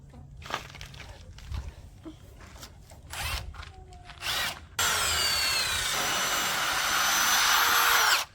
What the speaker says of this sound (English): She's drilling the clamp.